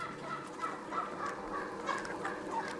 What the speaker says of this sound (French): Les poulets évoluent à leur gré entre le bâtiment et la volière extérieure.